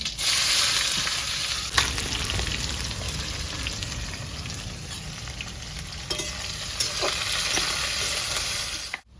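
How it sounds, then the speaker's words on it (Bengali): Chopped onions hit very hot mustard oil already tempered with bay leaf, dried red chillies and whole cumin. The result is a loud, continuous close-up sizzle with occasional stirring scrapes that cuts off abruptly at the end. "তেলটা প্রচুর গরম হয়ে গেছে কেটে রাখা পেঁয়াজ দিয়ে দেবো"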